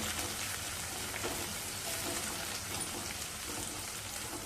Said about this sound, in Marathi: हे बघा वाटण चांगलं चरचरलेलं आहे चांगली फोडणी बसले